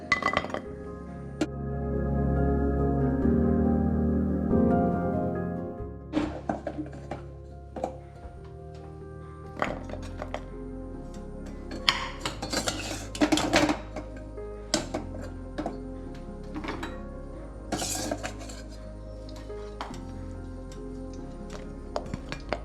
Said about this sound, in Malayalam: ഇനി ഇതൊരു പാത്രത്തിലേക്ക് മാറ്റി കൊടുക്കാം.